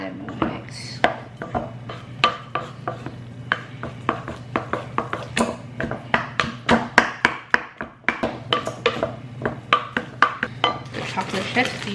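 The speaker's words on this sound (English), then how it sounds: "And I'm just folding in the chocolate chips." A utensil scraping and tapping against a bowl as chocolate chips are folded into sweet potato brownie batter, a quick steady run of close clinks and scrapes over a low background hum.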